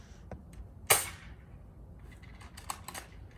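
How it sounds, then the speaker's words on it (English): A German World War II gun fired once, a single sharp crack that decays quickly, followed by faint clicks and rustling of handling. "It's a German World War II gun. So I am going to be hiding behind here. And shooting it again."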